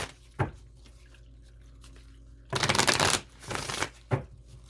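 Crystal cards for a reading are shuffled close by, with a short riffle, then a longer loud burst of rapid flapping card sounds and a few more quick riffles and taps.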